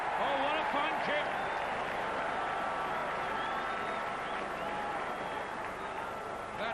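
A rugby crowd at a 1984 Schweppes Cup quarter-final between Llanelli and Pontypool cheers after a kick, a broad, distant roar under a commentator's voice.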